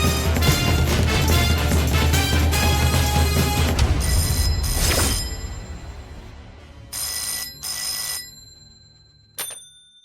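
A telephone rings in a Tamil TV drama scene: loud crashing music comes first, then a few separate electronic ring bursts sound fairly close, followed by a short final chirp.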